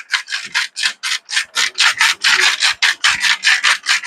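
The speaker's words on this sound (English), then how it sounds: "I'm going to have to wipe off my pepper grinder again because I was touching raw pork with it." A pepper grinder being wiped off with a cloth in a kitchen, a steady run of about twenty rhythmic rubbing strokes, close and loud, with no talk.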